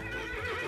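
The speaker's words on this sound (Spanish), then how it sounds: "Potro dicen que relincha por las noches." A horse neighs in one short, loud whinny with a wavering pitch, heard alone with no talk.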